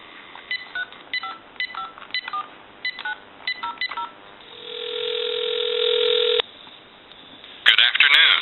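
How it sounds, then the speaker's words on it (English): GE DECT 6.0 cordless telephone gives a string of short keypad beeps, then a steady electronic tone holds for about two seconds before cutting off, followed by a brief burst of sound. "So we'll go ahead and give you some dial tone."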